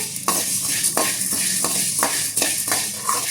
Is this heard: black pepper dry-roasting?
yes